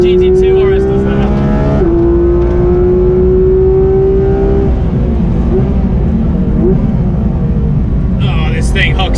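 Porsche GT2 RS accelerating hard on a wet track, a loud engine note rising steadily in pitch, dropping briefly at a gear shift and climbing again before easing, with tyre and spray rumble underneath and a voice talking over it.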